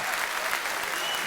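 Audience applause at a patriotic poetry recitation honoring martyrs, a dense, steady wash of clapping from a large crowd, close and continuous throughout.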